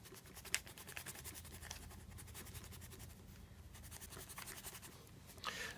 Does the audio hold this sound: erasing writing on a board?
yes